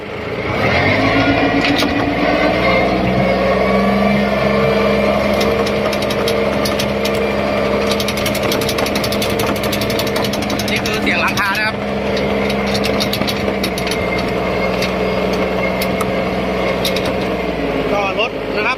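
The small engine of a used Iseki TM17 tractor runs steadily and loudly throughout as it drives, with a continuous droning hum and occasional clattering; someone talks over it now and then.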